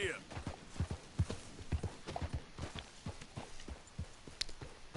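Horse hooves clip-clop at a steady walking rhythm over open countryside in Red Dead Redemption 2, close and fairly soft, with someone speaking over the footfalls.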